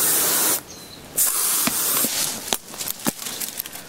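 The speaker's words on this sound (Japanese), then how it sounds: "これは虫除けの音です。" An aerosol can of insect repellent sprays in several short hissing bursts inside an abandoned house in a deserted lakeside village, close and loud, with a few sharper spurts toward the end and no talking.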